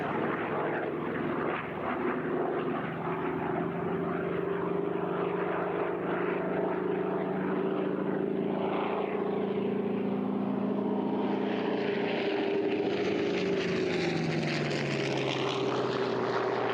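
A propeller aircraft roars steadily at an air show, loud and close throughout, its engine drone shifting in pitch as it passes, with no one talking.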